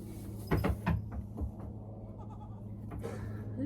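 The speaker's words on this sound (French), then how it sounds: "Ah, les chèvres, j'ai vu" Goats bleat in a few short calls close by, two louder bleats early and fainter ones after, over a steady low hum on a farm.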